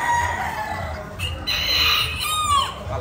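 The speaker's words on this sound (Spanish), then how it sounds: "Las gallinas y los gallos kikiriki, miren." Chickens cluck and a rooster crows nearby at a gamecock derby, layered calls over a steady outdoor background.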